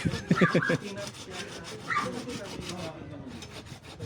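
Rhythmic back-and-forth strokes of a hand saw rasping through wood, steady and close, with brief voices partly over the cutting.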